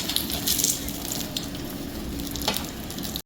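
Egg and cheese stuffed paratha crisping at the edges on a hot griddle, giving a steady close-up sizzle and crackle of frying oil that runs unbroken for about three seconds, then cuts off.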